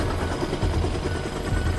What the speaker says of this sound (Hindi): तभी वह हेलीकॉप्टर अपने आप उड़ने लगते हैं।